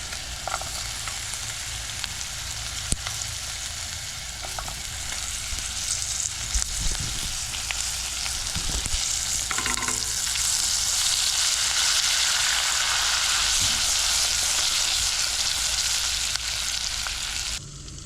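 Butter and peppers frying in a pan outdoors, a steady close sizzle that holds for the full stretch with occasional soft stirring clicks and no talking.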